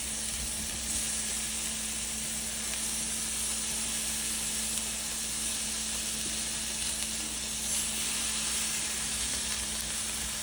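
Beef fillets sizzle steadily in a hot frying pan, a loud, even crackling hiss held close up for the full stretch with no talking.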